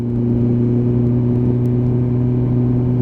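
Steady car engine drone at high revs, a loud constant hum with strong low tones and no talking.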